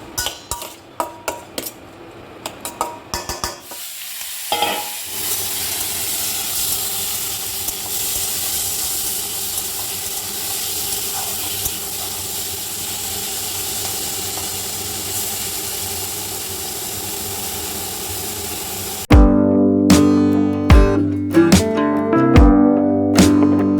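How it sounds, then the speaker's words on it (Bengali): Pond magur catfish fry in a wok. A few sharp clatters come first, then a loud, steady sizzling hiss holds for about fifteen seconds before giving way to busy clanks of utensils and pans. "মাছগুলো এবার ভেজে নেব"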